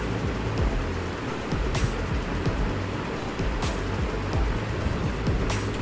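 Prawns sizzling in a pan with onions and tomatoes for an Andhra-style prawn curry, giving a steady, dense frying hiss that runs unbroken throughout, close and fairly loud, with no talking.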